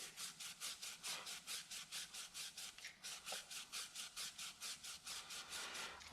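A green Scotch-Brite pad is twisted and scrubbed against an LS engine part, a fast regular rasping rhythm of about five strokes a second, quiet and close, with no talk.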